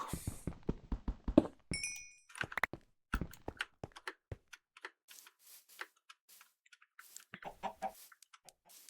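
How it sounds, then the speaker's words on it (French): Minecraft chickens clucking in short bursts, a quick run of clucks followed by scattered single ones, with a few high chirpy tones in between. "Ah, ici aussi on a des poulets là."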